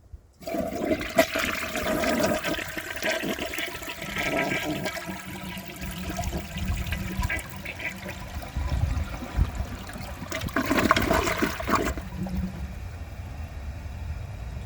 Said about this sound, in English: Now let's see if it can take the rest of this in a second flush, and I am going to hold the handle.